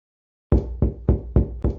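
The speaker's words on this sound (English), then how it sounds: "Why wasn't this jerk opening the door? I carried on with my thudding until my hands hurt." Five heavy, evenly spaced knocks of a hand on a door, close and loud, starting after a half-second of silence.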